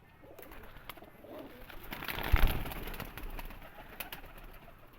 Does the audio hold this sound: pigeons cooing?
yes